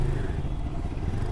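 A motorcycle engine rumbles in a steady, low, close drone that stays constant throughout with no clear revving.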